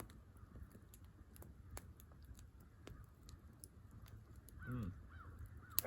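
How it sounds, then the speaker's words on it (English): Crows cawing down below near a creek in Uwharrie National Forest, a few scattered calls at a distance over quiet outdoor background, with a louder burst of squawking near the end. "Crows down there raising hell."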